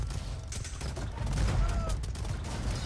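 Hand cannoneers fire in a strategy game battle, producing dense, crackling volleys of gunfire that blend into a busy, continuous combat mix at moderate level.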